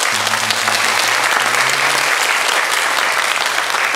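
A crowd claps steadily and continuously during a Sunday church service, a dense wash of applause filling the room, with a brief low voice underneath at the start.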